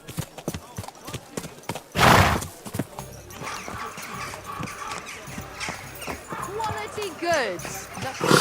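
A horse in Kingdom Come: Deliverance II: close hoof clip-clops, a sharp loud burst early on, then a whinny near the end, with a voice speaking over it.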